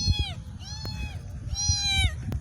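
A person imitates a cat, voicing three drawn-out meows close by, with faint background noise between them.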